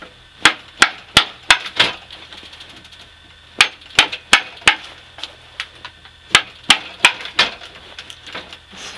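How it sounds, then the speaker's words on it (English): Sharp wooden knocks from a chisel struck into a dovetail joint being cut for a door frame in the restoration of an 1875 Norwegian log house; about a dozen loud, close blows in quick bursts separated by short pauses. "do the rest with a chisel."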